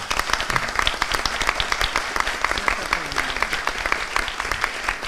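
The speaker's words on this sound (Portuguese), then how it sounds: "E os aplausos." Applause from the audience at the opening of a legal week event, a crowd clapping steadily for about five seconds with distinct individual claps audible through the moderately loud, even wash.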